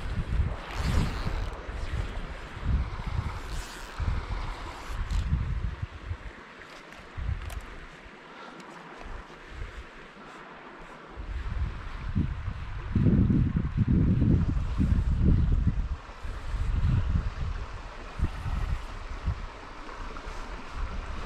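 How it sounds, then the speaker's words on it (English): Wind blowing off a lake at a spring wilderness fishing camp, a steady low rumble with gusts that buffet the microphone, easing in the middle and swelling strongly again later. "the wind is coming off the lake and it might be a little windy at camp tonight"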